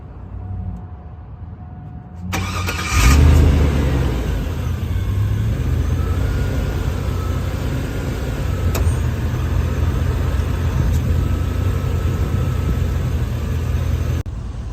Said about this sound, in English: Now we're about to go ahead and give her our first crank.